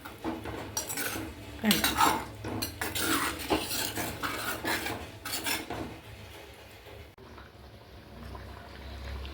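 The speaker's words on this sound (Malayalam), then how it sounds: "നമുക്ക് നന്നായിട്ട് മിക്സ് ചെയ്യാം." A utensil scrapes and clanks against a pot as bitter gourd and other vegetables are mixed, giving irregular, close metallic knocks and stirring rustles. One brief spoken word comes early.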